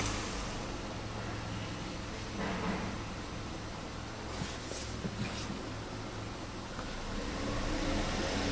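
A Volkswagen Up engine idling after service, a steady low hum and broadband whir that holds evenly throughout with no revving.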